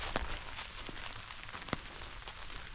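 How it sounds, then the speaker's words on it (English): Rain falling on the Laurel Highlands Hiking Trail during a foggy backpacking trip, a steady soft hiss with scattered patters of drops. Some drops fall close and sharp against the quiet wash of the rain. "and it's raining"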